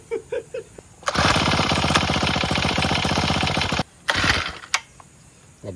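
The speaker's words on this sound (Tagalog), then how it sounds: "Mag-grass cutter na naman tayo sa may bandang CR doon para sa laging malinis," Grass cutter engine by a restroom area revs hard for about three seconds with a fast, rattling mechanical chatter, cuts off, then gives a short second burst and a few sharp clanks.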